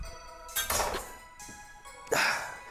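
A cooking pot, just lifted off the heat after whisking a Winter Veil recipe, is set down on an indoor counter with a clear clink and thunk, followed by a second metallic knock a moment later.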